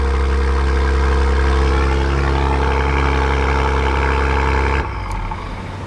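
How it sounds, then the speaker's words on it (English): A 2024 Acura TLX Type S turbocharged engine idles after a remote start with a loud, deep, steady rumble close by that abruptly drops to a quieter, lower idle near the end. "Yeah, it's got like a deep turbo rumble sound"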